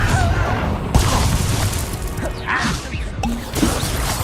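The Confringo fire spell explodes in the Hogwarts Legacy video game with heavy booms, crashes and whooshing bursts, in a dense, continuous clash of battle effects.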